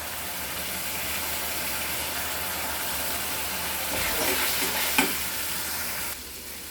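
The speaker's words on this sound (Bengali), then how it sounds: "আমার মশলাটা ভাজা হয়ে গেছে" Spices fry in a pan during chicken cooking, a steady broadband sizzle that holds throughout, with a few louder scraping stirs near the end before it drops slightly quieter.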